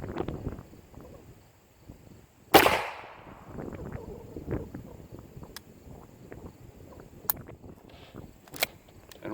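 An ISSC M-22 .22 pistol fires one sharp, loud report close by, followed by a few small metallic clicks and handling noises in an otherwise quiet outdoor setting.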